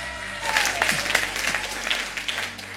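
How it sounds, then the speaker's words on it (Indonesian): A church congregation at an Indonesian Sunday morning service breaks into sustained applause, a dense, even crackle of many hands with a faint voice underneath. "Tepuk tangan buat Tuhan Allah kita."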